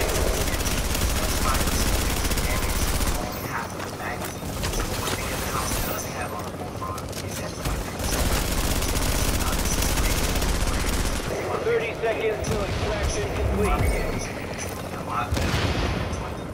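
Rapid automatic gunfire from an underrated rifle in The Division, dense sustained bursts with brief pauses, loud and close, with speech and game sounds mixed in.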